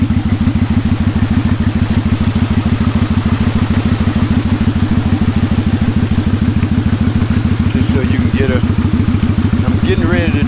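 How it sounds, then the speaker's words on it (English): A Kawasaki Vulcan 900 Classic cruiser's engine runs steadily while being ridden, with a loud, close, even low thrum and a fast regular pulse throughout, and faint extra sounds toward the end. "I'm riding on my Kawasaki Vulcan 900"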